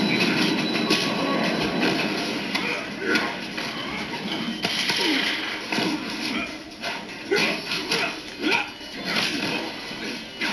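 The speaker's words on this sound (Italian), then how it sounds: "Una volta che tu schiacci sotto un treno." A train in the Mortal Kombat 9 fighting game, Stryker episode, rumbles past and runs over an opponent, a dense rolling clatter with rail squeal that fills the whole clip amid busy game effects.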